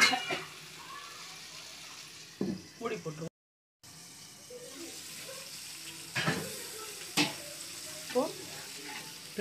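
Fish frying in oil on a small dosa griddle, a low steady sizzle with scattered crackles and pops, close by, with voices talking over it at times.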